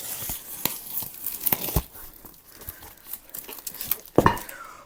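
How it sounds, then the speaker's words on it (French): Packaging for speaker equipment, a subwoofer and speaker stands, is torn and crinkled open up close, with sharp rips and rustling plastic in quick irregular bursts and a louder tearing burst near the end. "On va grand déballer tout ça."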